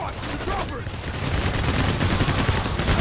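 A chaotic firefight in PAYDAY The Heist, with dense overlapping gunfire and automatic bursts roaring continuously, loud and close.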